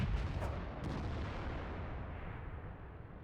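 Artillery fire in World of Tanks: a heavy, close blast with a dense rumbling decay that slowly fades over a few seconds, with no talk.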